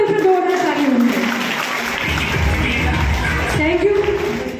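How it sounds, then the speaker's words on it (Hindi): An audience at a recognition ceremony breaks into applause, a steady wash of clapping that mixes with a voice at the start and end. "मैं चाहती हूँ दिल से जोरदार ताली होनी चाहिए।"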